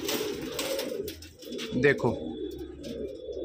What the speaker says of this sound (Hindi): अपने पास कबूतर आ चुके हैं